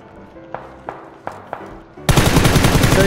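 Gunfire from shooting zombies in a video game: four sharp, separate shots spaced about a third of a second apart, then a sudden loud burst of dense rapid automatic fire that carries on to the end.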